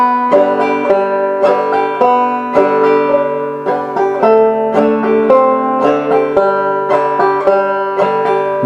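Clawhammer banjo playing Skip To My Lou, bright plucked notes in a steady bouncing rhythm with ringing strings, close and clear with no voice.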